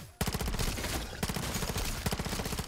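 Rapid SMG fire in the zombies mode of Modern Warfare 3, loud sustained automatic bursts with a brief gap near the middle, close and dominant with no voices.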